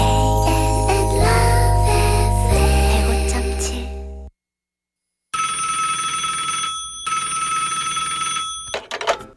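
A telephone rings loudly at first over a dense musical bed that cuts off, then repeated bright electronic ringing tones sound alone after a brief silence.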